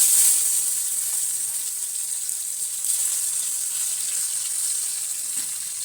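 Tomatoes dropped into a hot karahi with sugar sizzle steadily while a kofta curry is cooked, a continuous bright hiss that holds close and even throughout with no talk over it.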